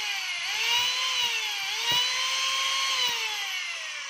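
A DeWalt D25144 rotary hammer runs steadily under test, a loud, continuous high-pitched motor whine with a slight rise and fall in speed and a few brief knocks, no talking.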